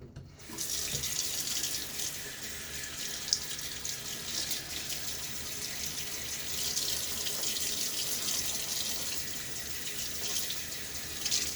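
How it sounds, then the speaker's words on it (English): Tap water runs steadily from a faucet for over ten seconds, rinsing a shaving soap puck in a sink, an even close hiss with no talk. "Now let me rinse the puck."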